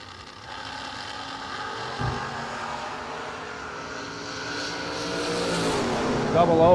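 Drag race cars, one a Camaro, launch with a sharp bang followed by a rising, harmonically rich engine howl that builds louder toward the end, with an announcer's voice in the background.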